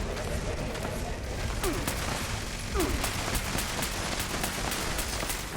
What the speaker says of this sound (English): So you're shooting at everyone.